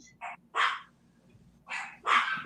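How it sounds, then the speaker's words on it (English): Dogs bark indoors at home, several short sharp barks in two pairs, fairly close, with quiet gaps between and no talk over them. "my dogs are barking since they heard"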